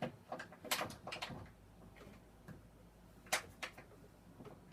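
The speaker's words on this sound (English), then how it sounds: "You can actually shut that part off and close the door." A sliding lid door shuts aboard a 1964 57-foot Chris Craft Constellation wooden yacht, giving a few sharp wooden knocks and clicks close by in a quiet cabin, with faint rattles trailing off.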